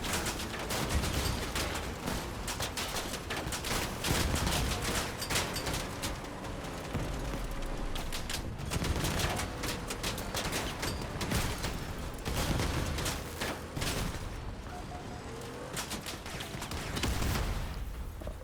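Dense, continuous gunfire and explosions from armored vehicle combat in Crossout, loud rapid bursts of shots and booms packed together for the whole stretch with no talk.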